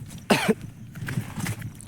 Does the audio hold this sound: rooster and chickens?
no